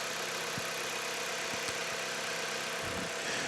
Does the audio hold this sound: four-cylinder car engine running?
yes